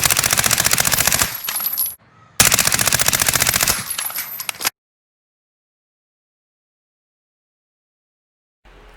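Rapid automatic fire from an ISO SMG in Black Ops, two sustained bursts of loud, dense shots separated by a brief gap, then a long stretch of silence and a faint return of sound at the very end.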